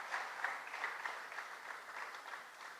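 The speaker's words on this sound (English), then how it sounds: "can we have a round of applause for Mark and Janae?" An audience at a church lecture at St. Matthias gives a steady round of applause, dense clapping that rises and falls slightly and holds throughout without a break.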